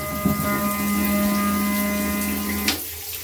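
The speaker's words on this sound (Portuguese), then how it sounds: "Uma bombinha de para-brisa puxando água de dentro do balde." A small 12V windshield washer pump whirs with a steady electric hum as it draws water from a bucket, water splashing and trickling around it until the motor cuts off near the end.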